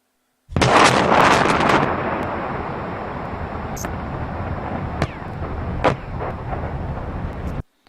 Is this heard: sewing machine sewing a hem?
no